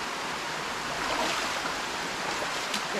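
Flowing stream water on a trail in El Yunque rainforest, Puerto Rico, a steady broadband rush without pause, moderately close.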